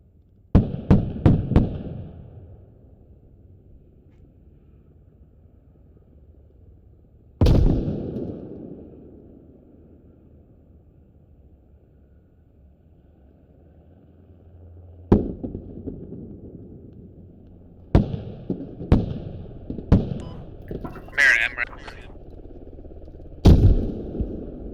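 Grenade explosion in a tactical shooter video game scrim: sharp booming blasts stand out from quiet gaps, with several loud reports early, one at mid-clip, and a cluster of bangs and cracks near the end.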